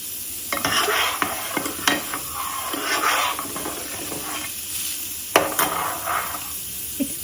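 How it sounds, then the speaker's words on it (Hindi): Kheer, a milky rice pudding, bubbles in a pot while a spoon stirs it, giving a soft sizzle and simmer under several distinct scraping strokes against the pot, close and moderately loud. "खीर बॉईल हो रही है और हम इसको थोड़ा सा चलाएंगे।"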